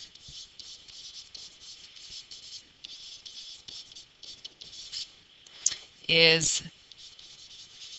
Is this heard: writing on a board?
yes